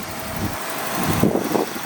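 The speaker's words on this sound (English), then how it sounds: "making a bit of a tick from the injectors as well" A 1994 Ford EF Fairmont engine idles steadily at close range, a low mid-pitched hum with a faint light ticking from the injectors running through it, no voices over it.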